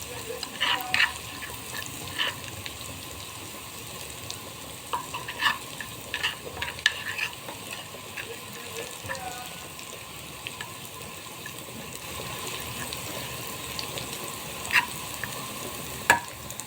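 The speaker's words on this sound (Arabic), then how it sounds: "الله على الطشه وجمالها" Tasha of garlic, coriander and green chili sizzling in country ghee, a faint steady frying hiss with scattered clinks and stirring scrapes, close by and without voices.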